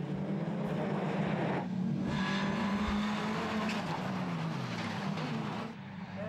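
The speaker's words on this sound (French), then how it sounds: "La Peugeot 207 de Peu semble plus rapide que la Clio du leader" Rallycross race cars, a Peugeot 207 and a Renault Clio, race hard with loud continuous engine roar, rising and falling revs as they pass close by, with crowd and track noise around them.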